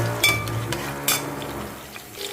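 Onions fry lightly in a pan for biryani, a steady sizzle broken by a few clanks and scrapes of a utensil against the pan.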